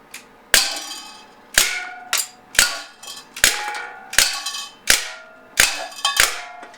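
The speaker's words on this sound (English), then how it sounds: "I'm going to fire at the pop can and tin can to test it out." Eight sharp pops from a Beretta Px4 Storm CO2 pellet gun come in quick succession, each followed by a metallic clang and rattle as pellets strike a pop can and a tin can.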